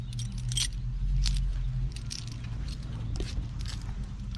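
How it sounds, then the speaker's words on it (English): Grandma-style car keys for a 1968 Chevy Bel Air jangle close up in several bright metallic bursts, over a low steady rumble in the background. "Whose grandma doesn't have car keys that look like this?"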